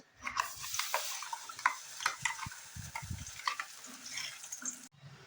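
Ground masala paste frying in oil for a vegetable kurma, with brisk stirring and scraping of a ladle through the pan over a crackling sizzle, close and continuous for a few seconds before ending abruptly.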